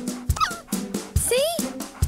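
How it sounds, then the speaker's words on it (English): A cartoon dog yips and whimpers in short, bright bursts with rising and falling squeals, close and fairly loud, mixed with cartoon voices and soundtrack. "That dog is a pest."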